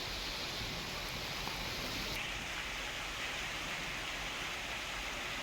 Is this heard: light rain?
yes